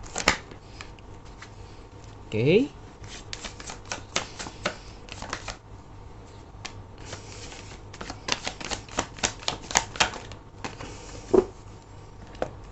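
Tarot cards are shuffled and drawn from the deck, giving many quick, sharp riffling snaps and soft flicks, close and fairly quiet, spread irregularly with a louder burst of shuffling early on and a brief spoken word near the end.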